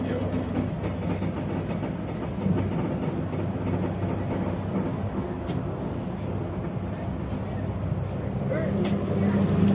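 Inside a Prameks commuter train travelling from Jenar toward Kutoarjo, a steady low rumble of wheels and carriage noise with faint rhythmic clatter, moderately quiet and continuous, swelling slightly near the end.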